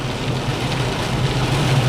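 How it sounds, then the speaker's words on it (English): Heavy rain pours steadily as a dense, continuous hiss with a low rumbling undertone, loud and unbroken throughout, with no voices. "it's raining like a son of a bitch"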